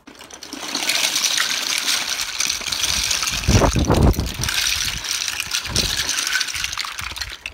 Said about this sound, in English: Pour them into this container for now.